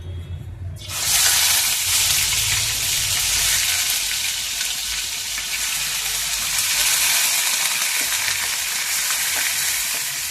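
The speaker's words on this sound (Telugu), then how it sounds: "మసాలా వేసుకుని వేపుకుందామండి." Masala spices hit hot oil in a pan for an egg and brinjal curry, bursting into a sudden loud sizzle after a second of low clatter, then a steady, bright frying hiss that continues to the end.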